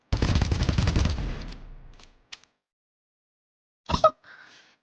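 Alternate fire of a weapon in the shooter Pax Autocratica: a loud rapid burst of shots that trails off, then a short pop and a final double blast with a fading tail, with no talk.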